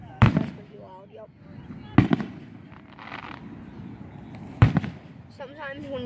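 Three loud firework explosions spaced a couple of seconds apart, each a sharp crack with rumbling tail, alongside a brief fizzling whistle and background chatter.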